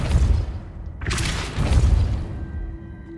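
Depulso spell cast in Hogwarts Legacy, a sudden forceful whoosh and burst with a rumbling boom that fades into a lingering tone, close and loud over low game ambience.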